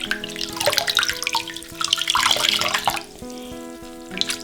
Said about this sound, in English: take some regular distilled white vinegar and put about a cup of it into some water